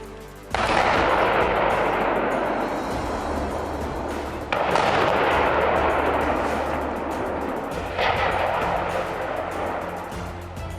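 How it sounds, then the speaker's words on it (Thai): Three loud demolition blasts in sequence as explosives bring down concrete towers nearly 60 metres tall, each a sudden boom followed by a long roaring rumble of debris and collapse that slowly fades before the next one. "การระเบิดจะเริ่มจากตรงนั้นเลย จากนั้นค่อยขยับไปทีละต้น"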